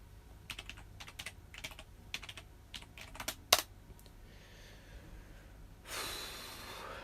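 Someone types on a desktop computer keyboard in quick, faint bursts of key clicks, then pauses. A louder clack follows, and a soft rushing breath or rustle closes the sequence.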